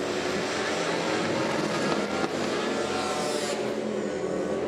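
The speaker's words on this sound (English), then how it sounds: "Love the sound of a V-twin." A Harley-Davidson V-twin motorcycle races at a drag strip, its loud, steady engine roar filling the air with dense noise, heard from a distance without any voices.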